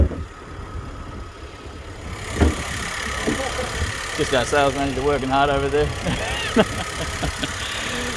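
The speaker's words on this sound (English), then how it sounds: "the engine's still running" A 2019 Nissan Qashqai ST-L engine idles with a steady low hum, bonnet open, while someone talks close by over it.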